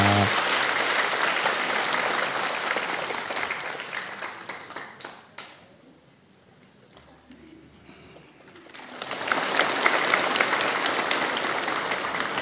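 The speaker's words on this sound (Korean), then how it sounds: "우리 박수로 이 아이를 축복합니다." Church congregation at a Sunday service claps to bless a newborn child, a dense burst of applause that fades out in the middle, then swells back loudly near the end.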